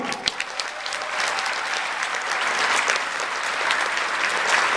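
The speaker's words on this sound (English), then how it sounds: "Give yourself a hand and a clap for the people around you" Crowd applause at a kung fu championship opening, many hands clapping with a few sharp claps standing out at first, then building into a fuller, louder roar toward the end.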